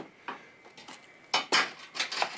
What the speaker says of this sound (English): Just throw all the shitty parts in the pan.